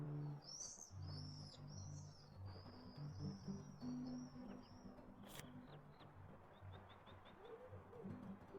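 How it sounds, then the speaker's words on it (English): Birds chirp and tweet in a game landscape, with high trills and short calls, plus dove-like cooing low underneath, at moderate distance over a steady ambient bed. "I can actually hear birds."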